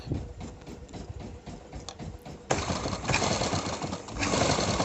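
Sewing machine running steadily while stitching thread piping onto a blouse, a dense continuous mechanical whir that grows louder and busier partway through, with no talk.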